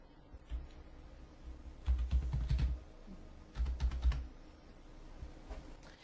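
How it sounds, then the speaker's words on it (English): Someone types a search query into Google on a computer keyboard, with quiet scattered keystrokes and two short bursts of faster clicking, close and fairly soft, with no voices. "we're going to type in the words internet marketing course."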